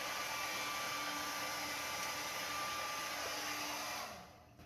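A hair dryer blows steadily and loudly as a constant airy whoosh with a faint motor whine, running alone for about four seconds before switching off and fading away.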